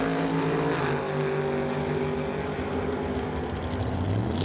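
A 1954 Studebaker drag car racing at a Canada West door slammers qualifying event, its engine giving a loud, steady droning roar with shifting harmonic tones as it runs.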